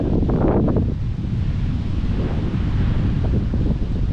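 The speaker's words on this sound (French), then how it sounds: "Il y a un petit peu de vent ce matin" Steady, loud wind buffeting the microphone with a low rumbling roar throughout, no voices.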